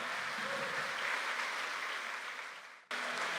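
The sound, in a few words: church congregation applause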